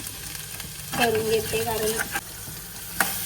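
Chicken pieces fry in hot oil with a soft steady sizzle and occasional stirring scrapes, while someone talks over the cooking.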